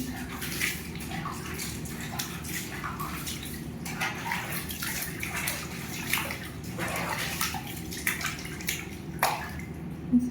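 A six-month-old baby splashes and plays in bath water, with near, continuous sloshing and irregular small splashes throughout and faint voices now and then in the background.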